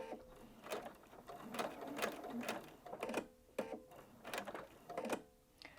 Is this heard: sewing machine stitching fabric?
yes